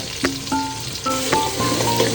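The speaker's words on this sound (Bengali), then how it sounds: "টমেটোগুলো দিয়ে দিলাম, ভালো করে নেড়ে দিব। একটু ভাজা ভাজা করে আসলে আদা রসুন বাটা দিয়ে দিব।" Tomatoes sizzling and frying in a pan with ginger-garlic paste, with intermittent scraping and stirring strokes over a steady hiss; close and moderately loud.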